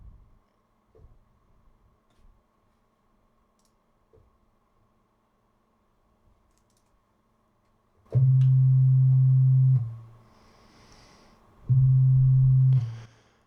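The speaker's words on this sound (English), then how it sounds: "let's just pick a sine wave to start. So I'm going to play a note" A pure, low synthesizer sine wave tone at C2 sounds twice, each steady note holding for about a second and a half, with quiet clicks and near-silence before.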